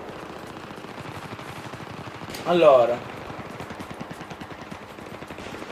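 Automatic weapon fire in the video game Battlefield 3: a single short, loud burst of rapid shots in the middle, set against steady background game noise, with someone talking briefly.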